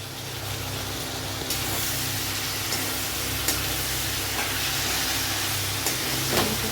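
Steady frying sizzle from a pan while chicken and egg khichuri cooks, a continuous broadband hiss with a few soft clinks and stirring scrapes, close and moderately loud with no talking.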